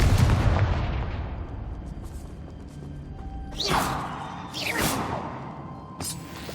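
A Confringo fire spell fired in the Hogwarts Legacy video game, heard as a low rumbling blast followed by two sharp, sweeping magical bursts and a final short crackle, loud and close, with no voices.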